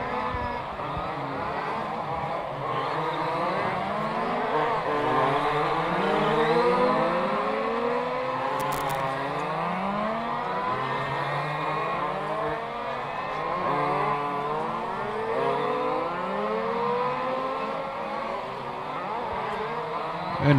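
Race cars at speed on a circuit during a timed practice session in the Race Car Series at Velp, engines droning and swelling continuously as several cars pass with rising and falling pitch, loud and unbroken throughout with no talk.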